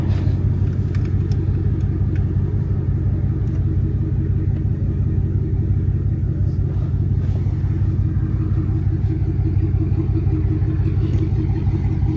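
A Dodge Challenger Redeye with a Hemi engine idles nearby in a steady, continuous low rumble that holds an even, unchanging level throughout, with no revving and no voices over it.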